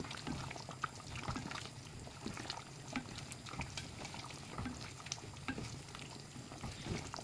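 Cumin spice is stirred into chana dal cooking with goat meat in a pot. Soft bubbling and scraping textures continue faintly and evenly throughout, with no talk.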